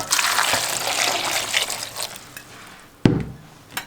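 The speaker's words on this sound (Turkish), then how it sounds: "leğenimizin içine muzlarımızı koyalım. Üstü basar su koyalım." Water pours into a basin over bananas, a rushing, splashing gush that runs for about three seconds before fading, then a sharp knock and a softer bump near the end.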